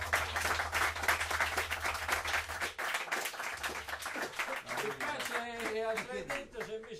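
Audience at a jazz concert applauds a pianist, dense clapping filling the first seconds, then thinning as a voice begins speaking over the fading claps.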